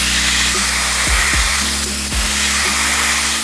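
A steady, loud hiss of spray washing down a car's exhaust manifold, continuous and close, with a few low thumps underneath.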